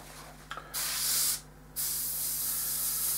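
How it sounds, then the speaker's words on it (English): Airbrush spraying khaki paint for a MiG-23 model: a loud, steady hiss in two bursts separated by a short pause, heard alone without talk. "quick check to see how it's coming through my airbrush, and it's coming through fine"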